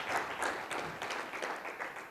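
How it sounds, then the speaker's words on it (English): Audience applause at a business conference session, steady dense clapping from a room full of people that holds at an even level for about two seconds, with no speech over it. "Round of applause for that person,"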